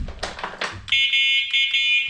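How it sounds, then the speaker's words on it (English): Horn of a Venom electric mini 36-volt ATV gives a steady, loud electronic beep that is pressed three times in a row with brief gaps, after some handling noise at the start. "And your horn. Wow, that's actually a little louder than this one, I think."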